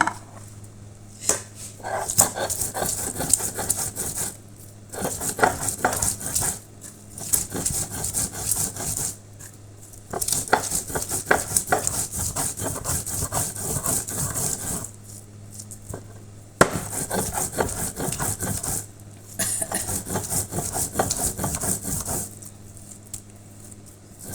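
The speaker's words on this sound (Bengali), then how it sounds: "আগে আমি কাঁচামরিচ বেটে নিব।" Green chillies are ground on a grinding stone in repeated scraping, rubbing bursts, each lasting a few seconds and separated by short pauses, close and fairly loud with no talk.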